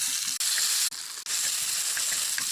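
Dried chillies and tomato hitting hot oil for a dal tempering, a bright steady hiss and sizzle close by, briefly dropping out three times, with faint clinks and no talk.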